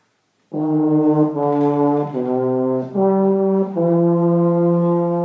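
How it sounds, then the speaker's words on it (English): Low brass instruments play sustained, rich harmonized chords together, shifting through several changes in a steady, loud passage with no talking. "then I want to hear the low brass in measure 17."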